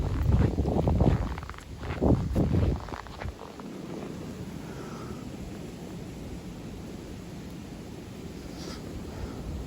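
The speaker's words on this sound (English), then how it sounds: "It's very windy and snow." Strong gusting wind during a Missouri snowstorm, loud low buffeting blasts in the first few seconds that settle into a steady broad rush of wind noise.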